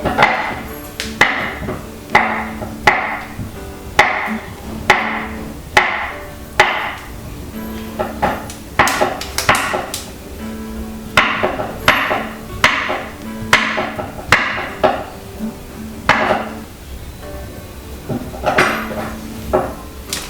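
Repeated sharp knife chops cutting fruit on a cutting board in uneven bursts, close and loud, with short pauses between runs of cuts.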